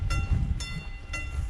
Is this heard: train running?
yes